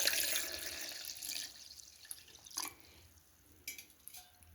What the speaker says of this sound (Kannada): ಈಗ ನಾನು ಇದಕ್ಕೆ ಕೋಲ್ಡ್ ನೀರು ಹಾಕ್ತಾಯಿದ್ದೀನಿ